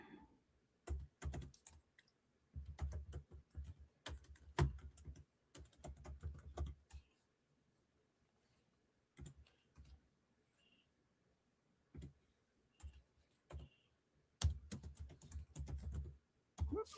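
A computer keyboard is typed on in clustered bursts of soft, close keystrokes, with quiet gaps between the flurries. The sound is faint overall.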